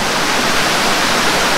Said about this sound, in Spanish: esa cascada